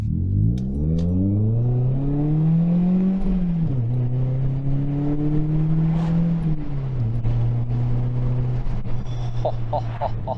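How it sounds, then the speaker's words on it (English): Toyota Celica with a big aftermarket exhaust pulling hard through the gears, a loud, close engine note climbing steadily, dropping at each of two upshifts, then rising again. "Thought I'd treat you to a pull with the exhaust."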